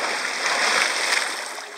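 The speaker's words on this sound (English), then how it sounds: "Big splash." A person jumps from a cliff into the Colorado River, making a big splash. The broad watery roar is close and steady over flowing river noise, and voices are faint.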